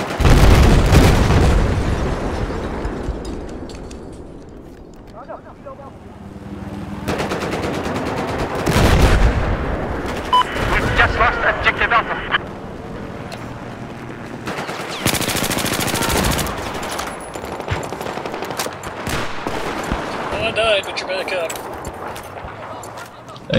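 Gunfire in the video game Battlefield 4 during close-quarters multiplayer, with rapid automatic bursts, heavy booming blasts and echoing shots spread over the stretch, loud and near, with a player talking over parts of it.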